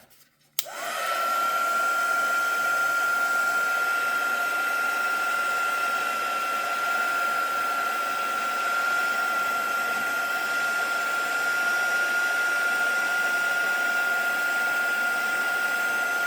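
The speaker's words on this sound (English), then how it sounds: "when you start having trouble, get out the heat gun" A heat gun starts up and blows hot air steadily at close range, a loud continuous whooshing roar with a sustained motor whine that holds unchanged for the whole stretch.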